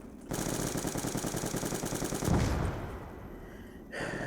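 Rapid automatic gunfire from a weapon in Black Ops II Zombies, a dense steady burst of shots lasting a couple of seconds, then a heavier blast and fading echo before a brief tail of game sound.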